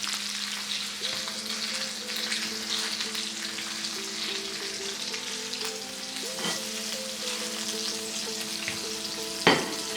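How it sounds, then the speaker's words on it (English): A steak sizzling steadily in a hot pan, a dense continuous crackle and spit close by, with a brief sharper pop near the end and no talking. "That steak is sizzling like crazy."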